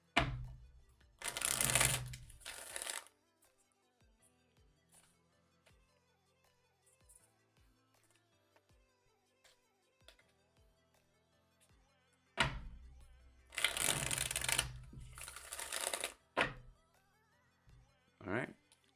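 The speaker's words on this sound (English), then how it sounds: "Let's do another shuffle for Virgo." Tarot cards shuffled during a reading: two loud bursts of riffling about ten seconds apart, the first lasting about two seconds and the second about three to four seconds. The gap between them is quiet.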